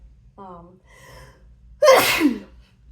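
A single sharp sneeze close up, preceded by a couple of short breathy vocal sounds like an intake of breath.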